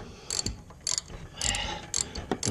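Shock absorber shaft on a Ram 1500 pickup being wound down through its retaining nut, giving bursts of quick metallic ratcheting clicks in several short runs separated by brief pauses, close and fairly loud.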